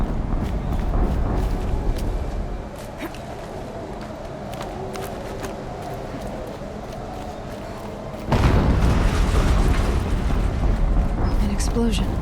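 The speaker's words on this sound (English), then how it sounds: "An explosion." An explosion in the video game Horizon Zero Dawn bursts in as a sudden, loud, broad rumbling blast near the end, following a stretch of busy game sounds and background activity.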